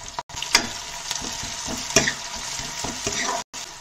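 Chopped onion frying with stone-ground garlic and chili in a pan for a Pahadi bhatt recipe, a steady close sizzle with a few scraping stirs and light clinks.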